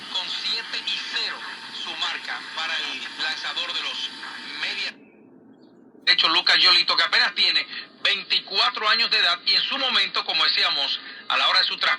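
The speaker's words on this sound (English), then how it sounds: "That's 1050 AM on the medium wave." AM radio station on 1050 medium wave received on a radio, heard as a steady stream of broadcast voice and program audio that drops out briefly around the middle, then returns at full strength.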